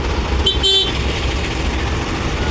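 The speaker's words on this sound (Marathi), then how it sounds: "खरं नाही सगळं ट्रॅफिक आहे" Road traffic with trucks rumbles steadily, and a single short horn honk rings out near the start, with no voices.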